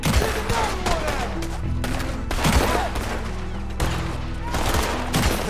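Loud, dense gunfire from a shootout in Red Dead Redemption 2, with rapid overlapping shots in sustained bursts and brief pauses, alongside game voices and shouts.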